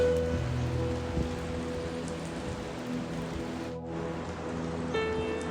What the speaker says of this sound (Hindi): अब जो बारीक वाली बारिश है ना